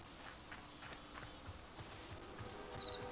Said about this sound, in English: I need my horse, actually.